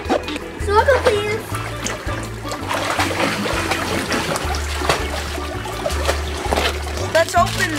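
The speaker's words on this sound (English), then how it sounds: "Mommy's going to open it up and fill it up with water." Water splashing and trickling while filling a watermelon ball pool splash toy, heard up close as continuous pouring and gurgling under children's and adult talk, with steady background music throughout.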